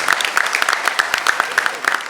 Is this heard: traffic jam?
no